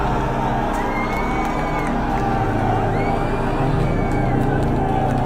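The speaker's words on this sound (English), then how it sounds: "audience will start screaming, clapping, dancing, and throwing popcorn" Cinema audience at a Minecraft movie screening screaming, whooping and cheering during the chicken jockey scene, a dense, loud, continuous roar of many voices filling the room.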